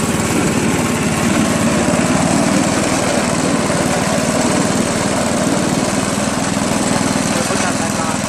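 A Jacobsen Imperial 26 snowblower with a 7 HP Tecumseh engine runs close by at a steady, loud drone, with no change in pitch for the whole stretch.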